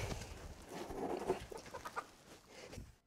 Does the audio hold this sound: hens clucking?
yes